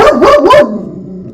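Dogs give two loud, close barks in quick succession, then a brief fading yelp trails off.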